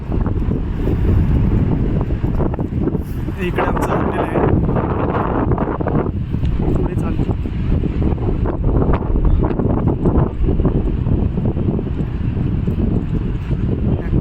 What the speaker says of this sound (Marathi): बाहेर खूप वारा सुटलेला आहे त्याच्यामुळे आवाज क्लिअर येणार